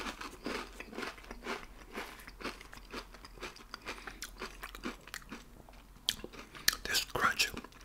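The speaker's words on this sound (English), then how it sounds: "This crunch, this crispy chicken almost has like a bacon taste to it." Crispy fried chicken is crunched up close in a whispered mukbang, with repeated crackly bites and chewing in an irregular rhythm, intermittent soft whispered talk between them and a louder burst of crunching near the end.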